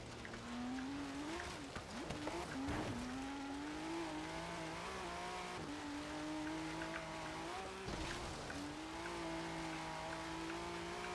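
A Ford GT accelerates in Forza Horizon 3, its engine note climbing and dropping through gear changes in a steady, up-close whine with brief tire squeal, playing on its own.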